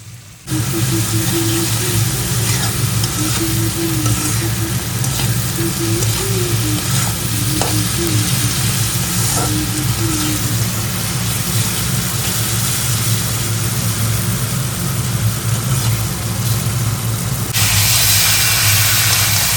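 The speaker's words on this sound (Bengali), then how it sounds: "চিনি ফোড়ন দিয়ে তারপরে পেঁয়াজ টমেটো এগুলো দিয়ে একটু নাড়াচাড়া করে নিচ্ছিলাম" Onions and tomatoes sizzle steadily in a pan after a sugar tempering, a continuous loud frying hiss with occasional scraping from stirring.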